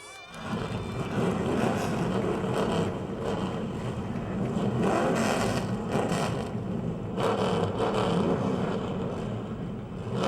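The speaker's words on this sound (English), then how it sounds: "Gentlemen, start your engines." Race car engines starting and roaring together at Motordrome Speedway, a dense, loud, steady mechanical rumble with revving surges throughout, no talk over it.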